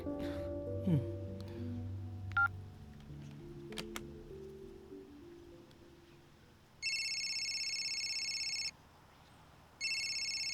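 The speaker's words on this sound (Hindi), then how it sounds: "फोन किया तो उठाता क्यों नहीं है?" Telephone ringing unanswered, two long electronic ring bursts following a quiet stretch of faint sounds and taps.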